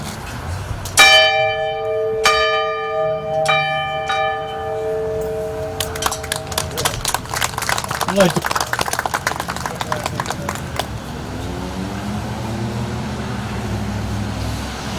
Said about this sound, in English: I would like to ring this bell in honor of my father, Robert Horvath